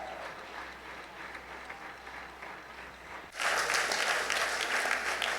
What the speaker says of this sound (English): Go on applauding because he doesn't stand